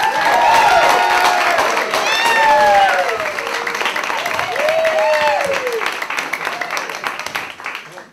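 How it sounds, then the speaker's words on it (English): A stand-up comedy audience at a playhouse bursts into loud, sustained applause with whoops and cheering as a comic is introduced, the clapping dense and steady before slowly thinning toward the end. "So give a big round of applause for our first comic, Mr. Harris Smith!"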